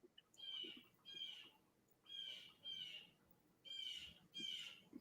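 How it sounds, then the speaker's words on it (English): A starling calls outdoors in six faint, evenly spaced bursts of harsh, squealing notes. "That sounds like a starling."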